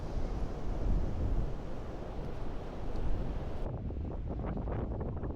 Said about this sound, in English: given how windy it is, we're getting blown all over the place.